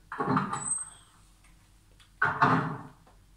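A door opens in the Resident Evil video game with two separate heavy creaks or thuds about two seconds apart. Each is fairly loud and close, with quiet between them and no speech.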